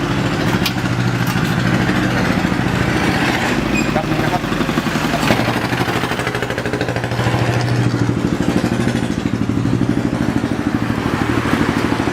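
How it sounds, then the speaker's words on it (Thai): A 450-amp welding machine, likely engine-driven, runs steadily and loud with a clattering, idling engine drone throughout, with voices talking over it. "ทีนี้เรามาลองตู้เชื่อม ตู้เชื่อมขนาด 450แอมป์นะครับ"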